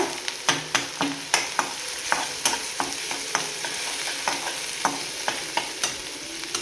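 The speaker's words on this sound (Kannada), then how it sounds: "ಮೆಣಸಿನ್ಕಾಯಿ ಮತ್ತು ಜಿಂಜರ್ನ, ಶುಂಠಿನ ಹಾಕ್ಕೊಂಡು ಫ್ರೈ ಮಾಡ್ಕೊತೇನೆ." Green chillies and ginger frying in a pan for paneer chilli, a steady sizzle punctuated by a regular series of sharp spatula taps and scrapes against the pan, close and fairly loud, no voices.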